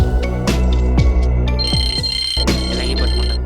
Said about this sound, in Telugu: అరే రింగ్ అవుతుందిరా.